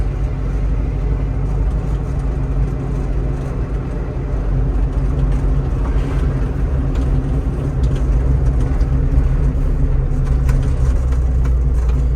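A 1974 Ford Bronco Sport, a mid-70s off-road SUV with a column-shift three-speed and a slight lift, drives in third gear; a loud, steady low engine drone and road rumble continue throughout with no talking.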